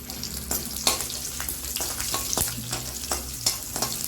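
Ginger, garlic and cashews fry in a pan while being stirred for a chana masala, giving a steady close sizzle broken by repeated scraping strokes of a utensil, with no talking.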